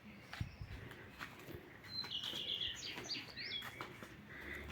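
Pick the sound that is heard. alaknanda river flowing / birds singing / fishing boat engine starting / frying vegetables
birds singing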